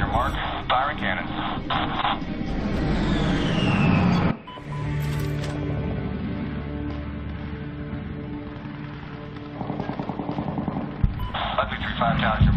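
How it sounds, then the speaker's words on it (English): A gunship fires its cannons in the video game Medal of Honor, with rapid bursts of heavy fire at the start and end and a steady engine drone in between, while radio voices talk over it. "Firing cannons."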